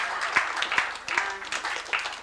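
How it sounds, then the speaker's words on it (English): Guests at a 75th birthday party in 1991 give a short burst of applause, a fairly soft, scattered clapping that runs throughout with faint voices underneath. "somebody better give her a round of applause as well"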